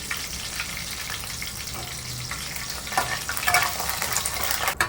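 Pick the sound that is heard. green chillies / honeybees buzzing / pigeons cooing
green chillies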